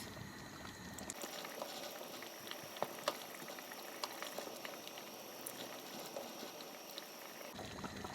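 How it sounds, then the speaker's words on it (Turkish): A pot of soup with rice meatballs and egg-based sauce simmers at a gentle, continuous bubbling boil, soft and close, with a few small pops and no talking. "Terbiyemizi koyduktan sonra 1-2 dakika kaynaması yeterli olacaktır."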